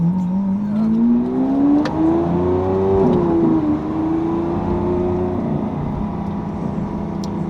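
A Lamborghini Aventador in sport mode revs loudly up close, its engine tone climbing steadily then easing off and settling into a sustained, strong drone.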